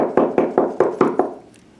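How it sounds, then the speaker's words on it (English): Six quick, evenly spaced knocks on a door ring out close and clear, then a short silence. "A little later, there was a second knock at the door."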